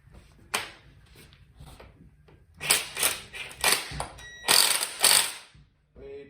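Ratcheting clicks while a nut is tightened on a BMW E36 steering rack, coming in several short close bursts of rapid metallic clatter separated by quiet gaps.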